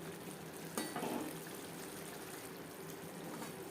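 Spices and red chilli paste frying in oil in a pan for a Katla fish curry, a soft, steady sizzle and hiss, fairly faint, with a brief stirring scrape early on.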